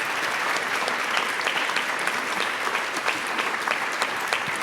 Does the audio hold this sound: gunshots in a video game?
no